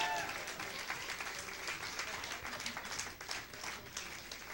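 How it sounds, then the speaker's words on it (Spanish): A church congregation breaks into sustained applause, many hands clapping together in a dense wash, with a brief exclamation from a voice partway through. "Den un aplauso al Señor"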